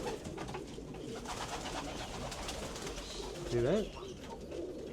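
A gold sulfur blondinet pigeon coos close by in a loft, with a clear wavering call near the end standing out over background bird noise, while a person talks softly.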